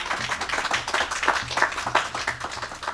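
Applause and clapping fill a hall in Medford as Senator Don Adiego is welcomed at a small business relief bill signing with Governor Murphy, a steady dense round of hands for the full three seconds.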